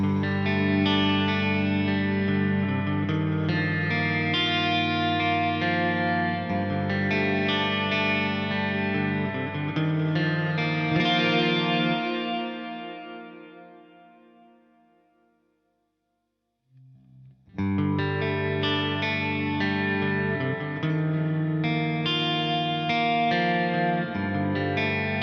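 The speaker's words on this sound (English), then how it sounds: "you can vary the smoothness of the delay taps from being more present and distinguishable to more soft and spread" A sustained guitar chord through a Walrus Mako R1 reverb pedal, washed in delay and reverb, fading into a long tail and near silence before a full, effected chord returns.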